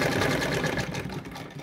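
Sewing machine stitching cut fabric pieces together, a continuous fast mechanical whir with a dense rhythmic chatter, steady and close.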